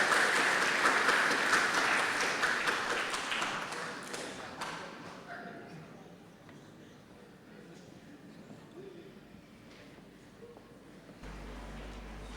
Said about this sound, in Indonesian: Mari kita berikan sambutan dan tepuk tangan lagi yang paling keras.